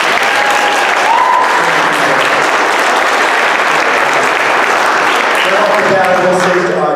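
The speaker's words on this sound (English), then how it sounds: "I think we should all give everybody another round of applause." A panel audience at a local political forum in San Benito County claps loudly and steadily throughout, a dense wash of applause with a few voices and whoops mixed in.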